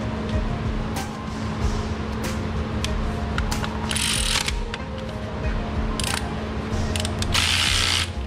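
A socket ratchet turns a bolt during an oil change, its pawl clicking in repeated bursts of rapid ticks, loud and close, with brief pauses between strokes.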